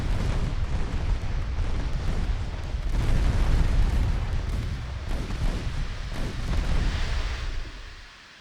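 Warship main guns boom in the Ultimate Admiral Dreadnoughts naval game, a loud, continuous barrage of rumbling low blasts over several seconds. The barrage swells and fades, then trails off at the end with no voices.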